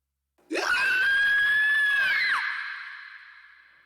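A human inhale scream imitates a high, piercing female scream for a Warframe sound effect: one sustained shriek with a sharp onset, about two seconds long, then a lingering reverb tail, heard alone.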